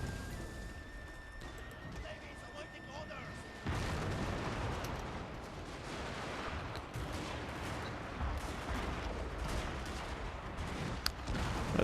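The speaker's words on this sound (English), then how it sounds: "I must say that I'm quite impressed by how effective has been the artillery here." Artillery fire booms through a Total War: Shogun 2 Fall of the Samurai battle, a dense, continuous roar of cannon blasts and gunfire with horses neighing in the mix, growing louder after a few seconds.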